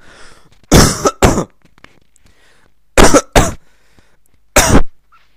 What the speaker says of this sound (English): Hang on, I've got a cough.